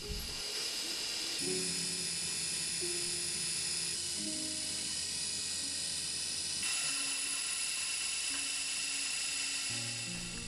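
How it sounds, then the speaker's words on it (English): A watchmaker's lathe machining tiny M1 balance wheel screws, a continuous high-pitched motor whine with shifting tonal hums as the cut changes, steady and close, with no talk. "I machine the screws on the watchmaker's lathe due to their small size"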